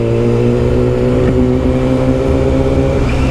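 A Yamaha R6 sport motorcycle fitted with a custom exhaust idles and revs near the microphone. Its engine gives a loud, steady rumble with a couple of brief throttle rises and no talking.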